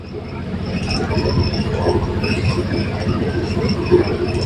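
A train pulls into a busy railway station with a steady, loud rumble of wheels and carriages and some higher squeals. Faint voices may sit in the background.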